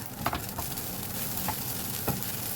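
Fried rice with cucumber being stirred in a hot pan, a steady sizzle under a few scattered scraping taps of the spatula, close and fairly quiet, no talking.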